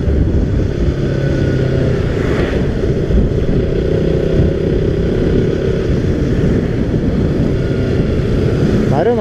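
A KTM Duke motorcycle rides a dry mountain ghat road, its engine and wind roar loud and steady throughout, with no pauses.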